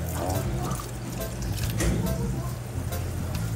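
Hot eggplant being soaked in cold water, with continuous nearby splashing and trickling water over a low background rumble.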